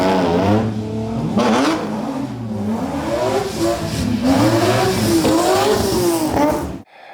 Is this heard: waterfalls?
no